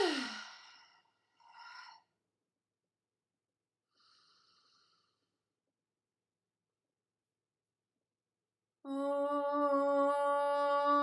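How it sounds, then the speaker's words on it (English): A deep cleansing breath taken at the start of a yoga and meditation session, a strong exhale followed by a couple of fainter breathy sounds, then a sustained chanted tone comes in near the end. "First, a cleansing breath."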